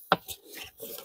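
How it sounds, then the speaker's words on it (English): Cardboard packaging around a budget powered screwdriver being opened: a sharp scrape or tear at the start, then soft, scattered rustling and rubbing, close and fairly quiet. "opening up the package"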